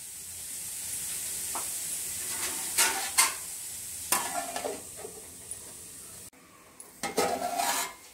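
Amla gooseberries roast in a pan for gooseberry rice, a quiet hiss underneath several sharp scrapes and clinks of a utensil against the pan, irregular and close, with no voices.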